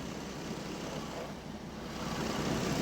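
A salvage-auction car with bullet holes and a new battery sits idling smoothly without shaking, giving a steady low engine rumble that holds even throughout and swells slightly toward the end, with no talking.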